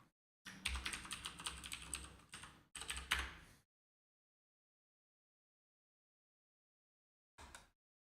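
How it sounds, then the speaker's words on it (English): Close computer keyboard typing comes in two quick, dense bursts of clattering keystrokes, then a long silence and one brief final flurry of keys. "I hope my keyboard isn't like ear-splittingly loud."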